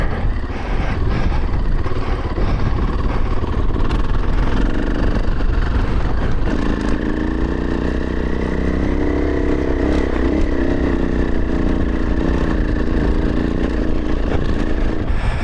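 A KTM 500 EXC-F dirt bike climbs a steep dirt slope. Its loud, close engine roars steadily, with the pitch shifting and rising partway through, along with rattling and clatter from the ride.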